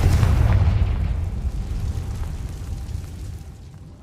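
A Confringo blasting spell detonating in Hogwarts Legacy: a deep, booming explosion right at the start that rolls off into a long, fading rumble.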